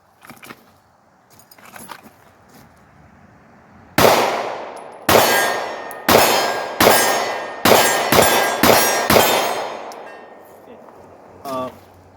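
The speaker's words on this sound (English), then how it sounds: "So anyway, let's shoot this gun." A Smith & Wesson M&P Shield 9 pistol fires seven loud, close shots in a steady series, each sharp crack decaying quickly, with quieter handling noises before the firing and after it.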